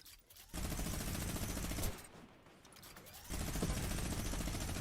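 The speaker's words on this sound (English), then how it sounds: "I'm minigunning." Rapid, sustained minigun fire from a battle royale video game, a dense loud rattle running nearly throughout with a brief lull in the middle before resuming.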